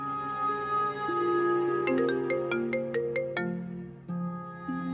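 A mobile phone rings for an incoming call, its melodic electronic ringtone playing loudly and steadily with a bright run of repeated high notes partway through.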